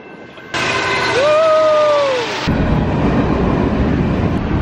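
A train arriving: a broad, loud rumble swells in with a gliding horn-like tone rising and falling over it, then settles into a steady, rougher rolling noise.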